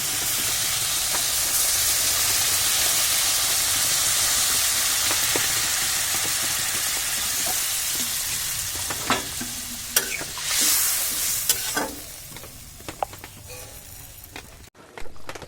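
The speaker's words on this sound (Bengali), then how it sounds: "এবার আমি কিছু পরিমাণ জল ঢেলে দেবো" Water poured into a sizzling mustard curry with potato and eggplant: a loud steady hiss of steam and frying that gradually subsides, followed by scattered clinks and scrapes of stirring near the end.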